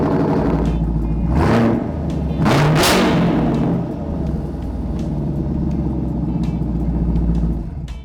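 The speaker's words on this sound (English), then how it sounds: "The rumble and rasp of this exhaust makes the car feel so powerful" A 2022 Chevrolet Camaro 2SS with an active exhaust rumbles loudly and close, swelling twice into hard acceleration bursts before settling into a deep, steady burble.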